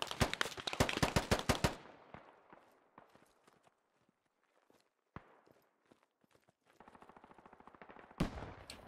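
Gunfire in the video game Squad during a street battle: a rapid burst of automatic shots up front, scattered single cracks and distant pops through the middle, then footsteps and another loud burst near the end.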